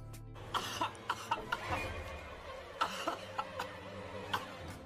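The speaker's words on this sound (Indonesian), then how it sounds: "Bi batuk-batuk sampai mengeluarkan darah dan belatung." A person on a ship coughs in a quick series of harsh hacks, as if bringing up blood, faint and fairly distant over a low background hum.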